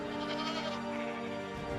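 Tibetan blue sheep or ibex bleat in a drawn-out, wavering cry that sounds close and loud against a steady background, with no talking.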